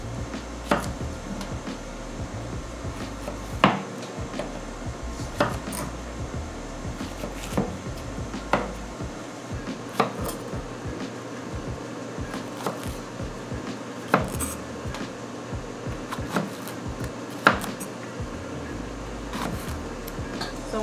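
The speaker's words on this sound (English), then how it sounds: "So we're gonna cut the jalapenos in half, the long ways, like this, carefully." A knife cutting jalapeños in half lengthwise on a board: scattered, sharp clicks and taps at irregular intervals over a low, constant background hum, with no speech.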